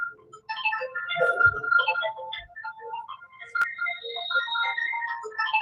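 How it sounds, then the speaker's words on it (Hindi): Phone ringtone: a melodic electronic tune of short bright tones plays in a quick, varied pattern, moderately loud and alone. "अरे यार किसका फोन आ गया"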